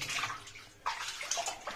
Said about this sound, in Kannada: ನೀರ ನೋಡಿ ಅಲ್ಲ ಹನಿ ಹನಿ ಬೀಳ್ತೈತೆ, ಗೋಡೆಲಿ ಇಳಿತದೆ